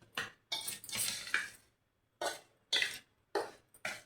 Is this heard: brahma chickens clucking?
no